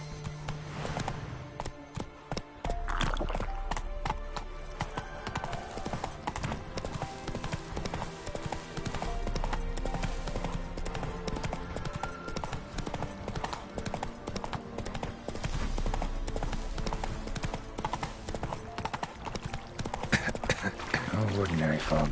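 Hooves of Roach, a horse in The Witcher 3 on PS5, clip-clop steadily through most of the stretch, layered with game music and brief talk.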